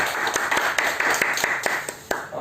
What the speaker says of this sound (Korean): 정말 박수 드리겠습니다.